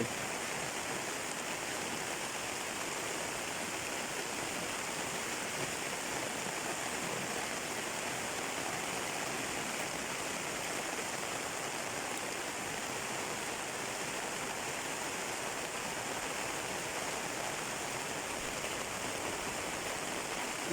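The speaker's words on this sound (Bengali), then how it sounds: "প্রচুর বৃষ্টি হইতেছে" Heavy rain pours in a steady, dense hiss that stays loud and unbroken throughout, with no voices or other sounds standing out.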